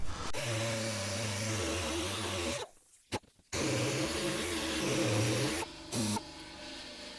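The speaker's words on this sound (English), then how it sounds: "Just in case there's any imperfections or high points, just sand them down a bit." A power sander grinds along the freshly cut, heat-burnt plastic edge of a Toyota 4Runner, a loud steady buzzing whine that cuts out briefly mid-way and then resumes.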